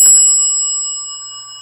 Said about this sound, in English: Next we have the Houghton bell.